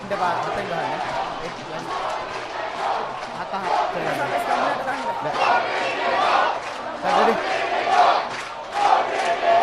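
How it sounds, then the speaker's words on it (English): Rugby fans at a Trinity College vs St. Peter's College schools match chant and shout back and forth from the stands in a cheer battle, a dense, rhythmic swelling crowd roar with voices surging in waves throughout. "A cheer battle going on in the stands."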